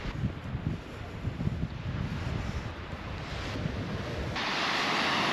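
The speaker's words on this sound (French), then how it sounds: "Il y a un tout petit peu de vent à peine. Vraiment de la brise." Soft breeze rumbling and buffeting across an outdoor mountain ridge road, with a gentle wash of water in the background, growing slightly steadier toward the end.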